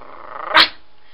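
A person vocally imitates aggressive shelter dogs growling and barking inside kennels, one short harsh snarling burst rising loud in the middle of the clip, with no other talk.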